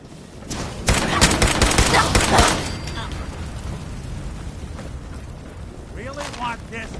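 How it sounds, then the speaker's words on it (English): Enemy gunfire in Fallout 4, a dense burst of rapid shots lasting a couple of seconds, then scattered fainter shots under a character's shouting voice. "Taking pot shots at us,"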